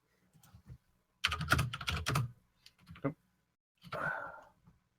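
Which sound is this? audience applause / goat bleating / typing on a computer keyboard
typing on a computer keyboard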